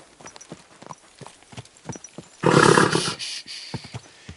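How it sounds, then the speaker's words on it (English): Horse hooves clip-clop in a steady close rhythm while riding in a video game, broken midway by a loud roaring burst before the trotting resumes. "Is this your first time riding a horse?"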